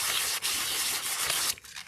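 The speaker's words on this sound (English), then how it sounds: "you do want to sand the full bottom of it" Sandpaper rubs across the bottom of a tumbler in quick, rasping strokes with a couple of brief pauses, close and alone.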